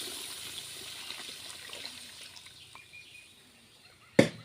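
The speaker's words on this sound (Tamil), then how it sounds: "அதை வந்து உள்ளே சேர்க்கணும் புளி தண்ணி" Tamarind water pours steadily into a pan with a soft, continuous splash while cooking a bitter gourd gravy, fading toward the end before a single sharp metallic clank.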